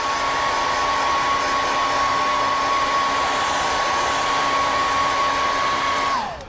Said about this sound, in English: Hit it with the hair dryer real quick.